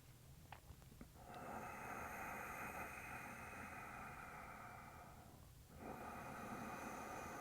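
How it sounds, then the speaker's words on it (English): Soft, steady Ujjayi breathing during a power yoga flow: a long hissing throat exhale with the mouth closed, followed by a brief pause and another hissing breath, close and even. "begin to create a soft hissing sound using your throat, like you're fogging a mirror"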